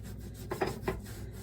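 A plastic credit card scrapes burnt-on milk and crusted grease from a stovetop, making a short dry rasping rub with two quick, slightly louder strokes in the middle, close up and quiet.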